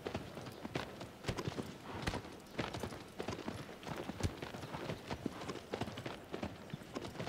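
Horse hooves galloping in the Shadow of the Colossus video game, a quiet rapid rhythmic clip-clop of hoofbeats running continuously without talk.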